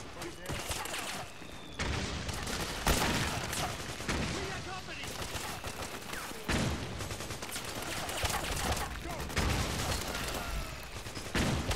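In the video game Metal Gear Solid 4, stray gunfire rattles in dense bursts of overlapping shots and booms amid a chaotic battle, steady and loud throughout, with voices mixed into the din.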